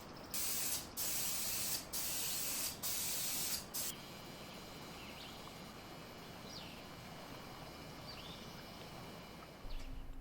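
Lacquer sealer sprayed indoors in a workshop on a mid-century Lane Acclaim cedar chest, four loud hissing bursts from a spray gun, each about a second long, followed by quiet room tone and a last short spray at the end.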